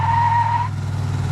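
A brief, high tire squeal from a restored 1969 Oldsmobile 98 convertible with a 455 big block, sounding for about half a second over a low engine rumble that carries on afterward.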